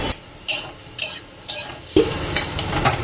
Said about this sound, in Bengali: বেশ ভালো করে ভেজে নিলে সবজিটা তাড়াতাড়ি হয়ে যায়